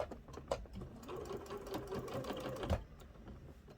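A sewing machine stitches two teddy bear fabric patches around a neck circle, a quiet steady run of rapid needle clatter lasting a few seconds before stopping.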